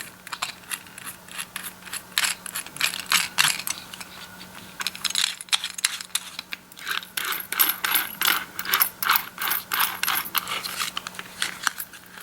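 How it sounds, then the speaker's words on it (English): Small nut being threaded and tightened onto a washer for a beaded canning-jar topper, giving steady close ratcheting, clicking mechanical sounds in quick irregular bursts throughout, with no talking. "Put the washer on, put the nut on it to tighten it up."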